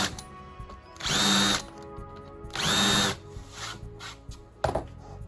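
Power drill countersinking holes in the wood of a tradie's toolbox: two close, loud whirring bursts of about a second each, followed by a shorter third burst, with quiet handling between.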